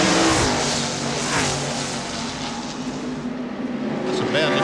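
NASCAR Busch Grand National race cars roar around Darlington Raceway in the 1995 Gatorade 200, with a loud, continuous engine drone and passing swells under a commentator's voice.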